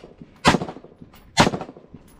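Gunfire at an outdoor shooting range, heard as two loud, sharp bursts about a second apart, each decaying with a brief reverberant tail against a quiet background.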